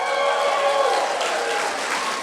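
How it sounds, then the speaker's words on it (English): Audience at a high school class night, dense steady clapping with a crowd murmur and some cheering, continuous and fairly loud for a few seconds. "tonight is an evening of wooing and clapping"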